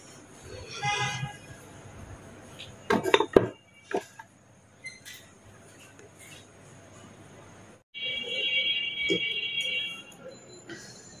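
A lid goes onto a cup of tea amid a brief cluster of sharp clinks and clatters of dishes in a home kitchen, with quieter tonal sounds and a hum around it.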